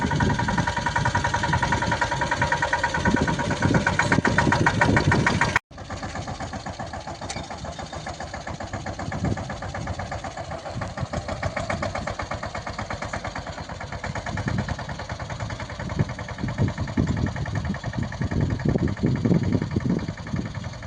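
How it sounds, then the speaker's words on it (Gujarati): A mini tractor engine chugs and rattles steadily nearby in a chickpea field, cutting out abruptly once before running on, with faint voices at times. "mini tractor"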